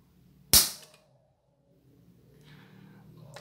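A Springfield pistol dry-fires with a single sharp, close mechanical click of the trigger and hammer, followed by faint handling noise in a quiet room.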